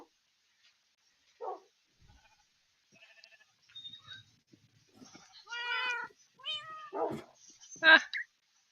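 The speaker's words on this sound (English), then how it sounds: "the cats are musical" Cats in a Minecraft-style video game meow in a series of short, separate calls, growing louder and closer toward the end against near silence.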